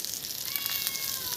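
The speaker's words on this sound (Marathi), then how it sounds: "बघा कशी मांजर बसली" A cat at a rural village home gives a faint, thin meow, quiet and drawn-out against low background hiss.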